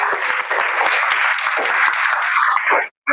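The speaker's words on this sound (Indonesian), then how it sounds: "Oke, kasih aplaus dulu untuk teman." A class of students applauds their classmates, loud, close and sustained clapping from many hands that stops abruptly near the end.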